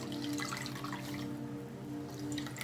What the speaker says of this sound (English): So really wring it out.